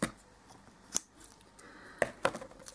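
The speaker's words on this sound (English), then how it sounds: "You need to cut your florist tape into thirds" Scissors snip through florist tape in a few sharp, close, quiet cuts spaced irregularly, with soft handling noise in between and no talking.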